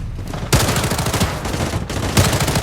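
An M4A1 Venom rifle in the shooter game Blood Strike empties a full magazine in loud, rapid, sustained automatic bursts, with a short pause between volleys.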